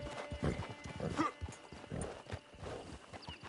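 Horse hooves clip-clop steadily in a video game, a close rhythmic stream of hoofbeats with a brief whinny partway through over faint ambient background.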